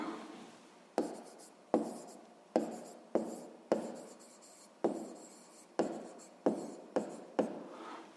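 A pen writes numbers on paper for a sixth-grade math exercise: about a dozen close, distinct scratchy strokes, each starting sharply and fading, spaced irregularly, with no talking.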